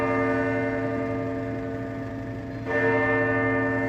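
A church bell rings with a sustained, resonant hum, its tone swelling again as it is struck once more partway through.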